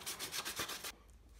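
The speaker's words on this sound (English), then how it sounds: "go over the entire surface of the coupling with 400 grit sandpaper" Fine 400 grit sandpaper rubs quickly back and forth over a plastic coupling, about seven short, crisp scratchy strokes in under a second, then stops into quiet.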